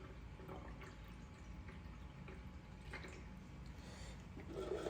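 Water poured through a fill hole into the reservoir of an Ahopegarden hydroponic growing kit: a faint, steady wash of trickling water that holds for the whole stretch and swells slightly at the end.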